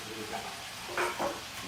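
Minced beef frying in a pan gives a steady low sizzle, with a couple of brief louder scrapes or stirs near the end of a short stretch.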